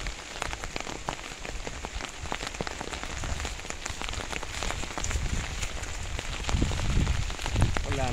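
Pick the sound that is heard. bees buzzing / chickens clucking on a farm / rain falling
rain falling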